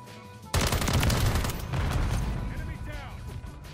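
Rapid automatic gunfire in Modern Warfare 3, a loud sustained burst of shots that starts abruptly after a quiet lead-in and trails off into scattered firing, with voices chatting underneath.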